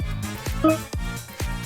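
A short, unused electronic sound effect named Counter003 from the game files of Geometry Dash: a few quick rhythmic tonal blips with a brief rising chime in the middle, clean and close, with no voices.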